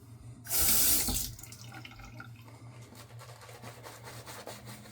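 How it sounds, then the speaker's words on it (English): Tap water runs into a sink from a stronger faucet stream after a weak sprayer, in a small soap-making workshop; a loud gush rises then settles into a steady close pour. "I don't think the bougie sprayer was getting me enough water."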